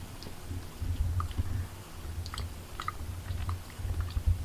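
Close, soft chewing and biting of cold-served Thai mango chunks, a steady run of moist crunches and squishes in the mouth with no talking.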